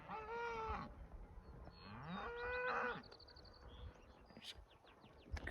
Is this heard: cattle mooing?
yes